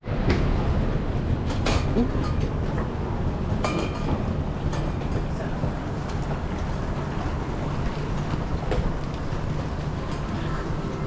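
Steady, loud rumbling of an overnight train from Hanoi to Sapa with broadband rattling and occasional sharp clanks and knocks, continuous throughout, no talking.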